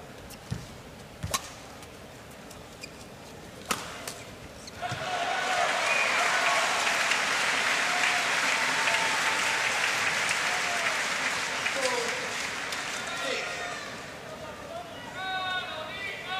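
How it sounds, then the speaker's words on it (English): Badminton spectators at a world championship final break into loud sustained applause and chanting after a few sharp shuttle hits and crowd murmur, the clapping swelling then tapering off as a commentator speaks over it. "she's having great support in the crowd here. Chanting her name"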